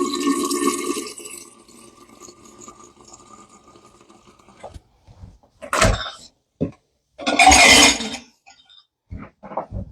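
A kitchen tap runs in a couple of short gushes while water is drawn to feed a sourdough starter, with quiet clinks and gaps of near silence between the bursts.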